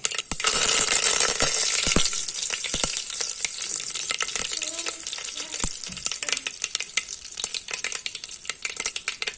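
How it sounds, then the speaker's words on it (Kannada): Steady close sizzling of hot oil with sharp scattered pops and crackles as mustard seeds and curry leaves fry for a chicken curry, loud at first and easing slightly. "ಸಾಸಿವೆ ಸಿಡಿತ ಬರ್ತಾ ಇದ್ದಾಗೆ ನಾವು ಒಗ್ಗರಣೆ ಎಲೆಯನ್ನು ಕೂಡ ಸೇರಿಸುವ, ಕರಿಬೇವಿನ ಸೊಪ್ಪನ್ನು"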